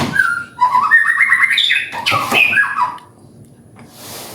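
A bird calls loudly and nearby with a run of chirping, warbling notes, squawky in places, then fades to a quiet hiss.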